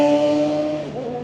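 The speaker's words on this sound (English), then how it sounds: "Gotta love motorcycles." A motorcycle passes on a suburban road in The Woodlands, Texas: a tonal engine whine holds, then drops in pitch and fades as it moves away.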